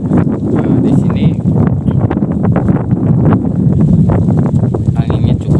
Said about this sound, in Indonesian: anginnya cukup kencang karena memang di sini padang